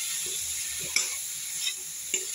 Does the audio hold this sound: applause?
no